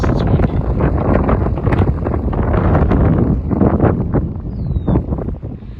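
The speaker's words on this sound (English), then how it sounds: "it's windy." Strong wind buffets the microphone out on a bare dirt field where tractors are land leveling, a loud continuous roaring rumble with gusty swells throughout and no talking.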